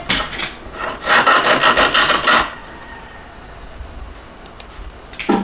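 A hand file rasps across a soldered silver ring, smoothing and rounding it, in a run of steady strokes for about two seconds, then the workshop falls quiet apart from a brief scrape near the end.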